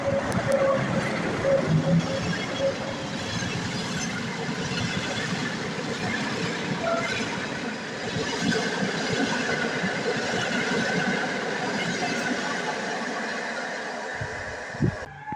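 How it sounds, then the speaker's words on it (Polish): Train rumbling as it pulls out of Jaworzno-Szczakowa station in Poland, a steady low roar with faint squeals and creaks, fading toward the end. "Rusza nasz pociąg ze stacji Jaworzno-Szczakowa."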